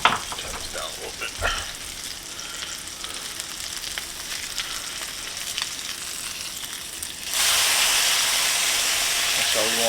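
Sausage frying in a pan, a steady close sizzle with light scraping and stirring at first, then a sudden louder, brighter hiss that holds to the end as the pan is turned up or the sausage is flipped.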